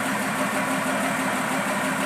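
The engine of a Fiat 190 truck idles at a steady, even rumble with a faint knocking pulse. It is close and continuous, with no voices.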